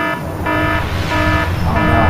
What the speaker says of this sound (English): Oh no, I know those alarms.